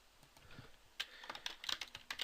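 Rapid typing on a computer keyboard during SAP ERP software work, a quiet run of close, crisp keystrokes that speeds up into a dense cluster of taps before easing slightly, with no talking.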